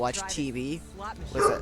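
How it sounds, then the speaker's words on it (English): A pet dog barks a few times close by, mixed in with a person talking casually over it, the yips sharpest near the end. "that was my dog"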